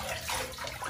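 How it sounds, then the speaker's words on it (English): A shower sprays water over a Maremma Sheepdog and Golden Retriever mix puppy, a brief, steady hiss of running water heard close and alone. "You're having a shower."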